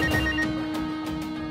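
Telephone ringing alone with a steady electronic ringtone, a continuous tonal trill that pulses in quick repeated bursts, close and clear with no talk over it.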